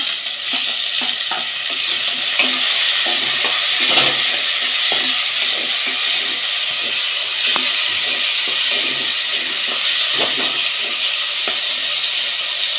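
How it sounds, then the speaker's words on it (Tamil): Onion and then tomato sautéing in a pan for country chicken curry, making a loud, continuous close sizzle broken by scraping stirs, with no talk. "வெங்காயம் வதங்கிடுச்சு தக்காளி சேர்த்துக்குவோம்"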